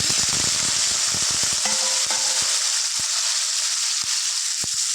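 Native tomatoes hit hot oil with a loud, close sizzle and a burst of crackling pops, settling into a steady hiss with occasional sharp spits and no voices.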